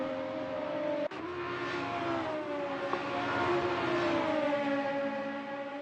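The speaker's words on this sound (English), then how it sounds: "Volvo's 5-cylinder wailing down the back straight into Fogarty S's" A Volvo 5-cylinder touring car engine wailing down a straight at Donington in a sim racing game, a loud, steady, harmonic howl with a brief dip from a gear change before the pitch rises again.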